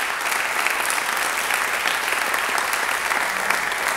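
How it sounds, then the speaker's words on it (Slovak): A church congregation applauds steadily, a dense and even wash of clapping that continues throughout at full strength. "Poďme dať potlesk Pánovi za to, že má lepšie plány pre nás."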